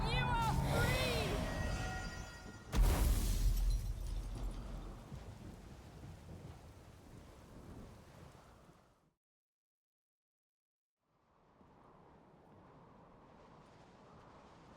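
A thunderstorm in the video game The Witcher 3: Wild Hunt: a loud thunder crack and rumble over steady heavy rain, with voices talking over it early on, then a sudden silence before softer rain returns.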